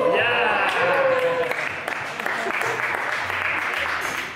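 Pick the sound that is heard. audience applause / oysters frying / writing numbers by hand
audience applause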